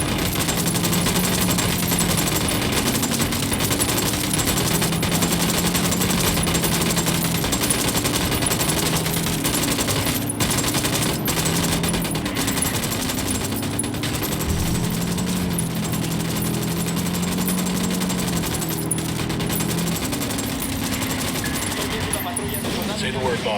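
A squad opens up with sustained automatic gunfire in Ghost Recon: Wildlands, dense overlapping rifle bursts that rattle on steadily for over twenty seconds, mixed with game music and voices talking throughout.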